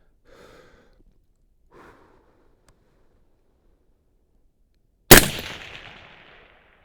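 A single loud, sharp Haenel CR6.5 rifle shot cracks out at a long-range shooting session and rings off in a long decaying echo, preceded by a couple of soft exhaled breaths close by.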